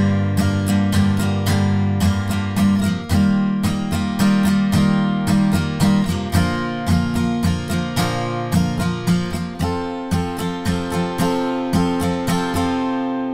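Guitar strumming the bridge chords of a song, steady rhythmic strokes on each chord, loud and close, played alone.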